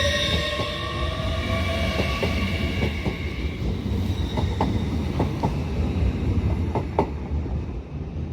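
A passenger train pulls out of Doncaster station bound for London King's Cross, a steady loud rumble of carriages with rhythmic wheel clicks and faint squeals running through the whole stretch, no one talking.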